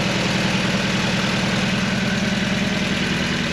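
A car engine idles steadily with a low, throbbing exhaust rumble, close and constant, with no voices.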